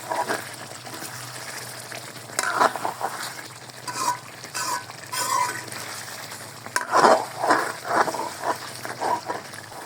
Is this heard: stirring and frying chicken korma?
yes